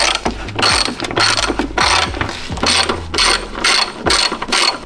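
A hand ratchet loosening the coolant overflow tank bolts on a 1994 Toyota Celica GT: rapid clicking pawl bursts come in about nine rhythmic back-and-forth strokes, close and loud, with no talk.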